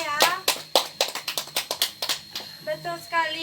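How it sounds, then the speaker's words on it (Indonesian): A class of children applauds for a classmate named Lufida in an elementary school lesson, a burst of quick, uneven hand claps and taps close to the microphone, with children's voices mixed in. "Nah, tepuk tangan untuk Lufida ya."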